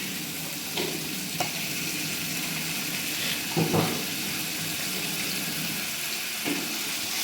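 Ginger garlic paste fries in a pan for a ten-person vegetable biryani, a steady close sizzle broken by a few scraping stirs of the spoon, with no voices.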